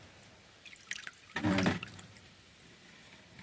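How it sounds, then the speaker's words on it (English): Loose water pours and drips out of a holed bucket holding compost worms, with a few scattered drips leading into a brief, louder splashing gush that then trails off to quiet. "let the loose water drain out of them"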